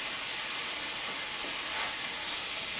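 Chicken jambalaya frying in a pot while being stirred, heard as a steady, loud, continuous sizzle that holds evenly throughout with no talk.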